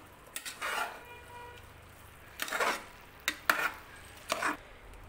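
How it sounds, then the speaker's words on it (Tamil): A spoon stirs egg biryani in a pot, giving a few scraping, clattering strokes against the metal over a low, steady background, fairly quiet and close. "இப்போ பொறுமையாக கலந்து விட்டுடலாம்"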